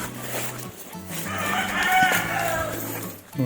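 Chickens in a farm coop cluck and call close by, with a rooster-like crow rising in the middle over a steady low background hum.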